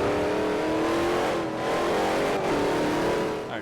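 A fully built Shelby GT500 with a super lightweight flywheel revs hard while drifting in Forza Horizon, a loud, steady, continuous engine roar that rises and falls slightly, with a brief dip midway.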